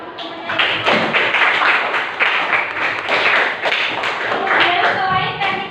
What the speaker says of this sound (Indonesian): Beri tepuk tangan dulu temannya.